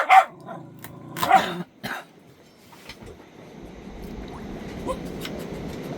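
A dog on a sailboat in Martinique gives a couple of sharp, close barks and a short yip, then settles into a low growl over steady background noise.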